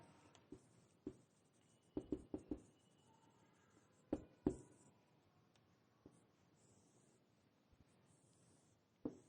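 Pen writing and drawing on paper, faint scratchy strokes with a few sharper taps scattered through, quiet and close, pausing between bursts of lines.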